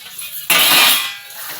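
A lid comes off a pan of brinjal frying in oil in a home kitchen, giving a sudden loud burst of sizzling that swells and then settles back to a softer crackle.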